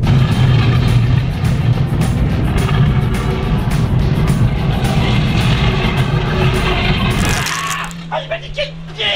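A drift car rolls on bare metal wheel rims with no tyres, making a loud, harsh, continuous grinding roar close by that fades near the end, when a voice speaks.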